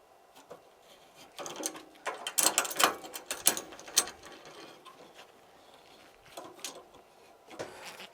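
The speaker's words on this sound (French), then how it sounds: "Pour parfaire le serrage, j'ai besoin d'une clé de 13, soit une clé à douille, soit une clé plate" A 13 mm socket wrench tightens a bolt on a balcony mounting bracket for a Kodak 450 W solar station, giving quiet ratcheting clicks in irregular bursts, close by and fairly soft, with no speech.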